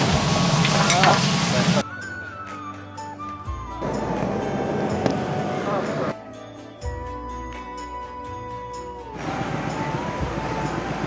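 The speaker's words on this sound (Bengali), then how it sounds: "দিয়ে দিলাম লবণ দিয়ে দিচ্ছি মূলা কষাবো" Radish and salt sauté with potatoes in a frying pan, giving bursts of broadband sizzling and stirring that alternate with stretches of tonal background music.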